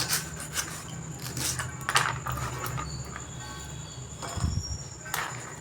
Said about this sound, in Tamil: சின்ன சின்ன பீஸாக கட் பண்ணிக்கிறேன்